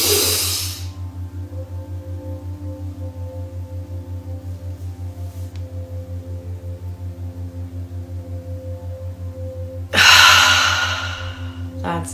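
Deep, forceful breathing during a guided breathwork exercise: one long, loud rushing inhale at the start and another about ten seconds later, with a steady low electrical hum running beneath.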